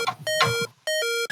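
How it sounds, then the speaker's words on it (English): Low-health warning from the video game Pokemon Red: electronic tonal beeps in a repeating high-low pattern, loud and close, with a short gap between two bursts. "When your Pokemon were at low life, it would be consistently going off in your speaker there."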